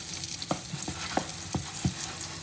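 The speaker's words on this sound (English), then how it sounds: "you just want to mix this in really well" A mixture stirred in a pot as it turns to dough, heard as a soft sizzling bed with several distinct scraping knocks at an irregular pace, close and fairly quiet, without talk.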